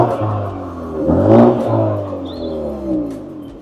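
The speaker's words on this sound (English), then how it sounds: "So let's see how this car sounds." A car engine runs close by and revs once, rising to a peak and easing back into a steady idle hum with a faint whir on top.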